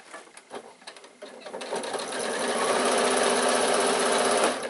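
A sewing machine stitches a piped fabric bag, starting with a few short uneven bursts and then settling into a steady, loud continuous whir of the needle close by.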